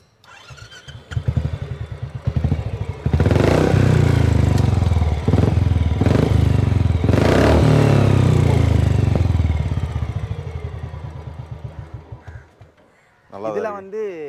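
Royal Enfield Classic 350 motorcycle engine starting and running with a loud, steady thumping single-cylinder beat, revving briefly before cutting off, with voices speaking over it.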